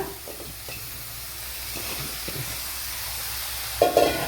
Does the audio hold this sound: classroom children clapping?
no